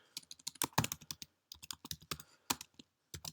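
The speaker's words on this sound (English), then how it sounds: "I can type in my message to the team" Fingers type a message on a computer keyboard, producing quick bursts of crisp, close key clicks in an uneven rhythm, with short pauses between runs of keystrokes and no voice over them.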